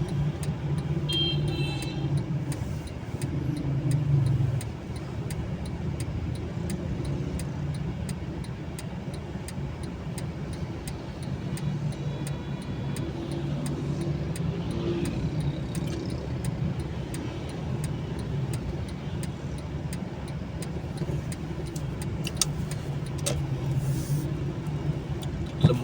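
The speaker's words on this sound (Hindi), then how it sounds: "लंबा ही ट्रैफिक जैम है भाई।" A long traffic jam on a road in Lahore gives a steady, low rumble of idling and creeping cars, continuous and moderately distant, with faint ticking and occasional higher noises and no clear speech.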